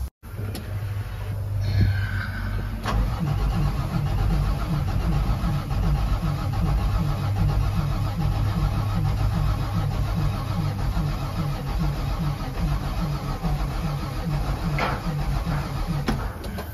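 Car engine cranking after two years of sitting, sprayed with brake clean, a steady rapid chugging of the starter that runs on without catching, loud and close, with a brief catch early on.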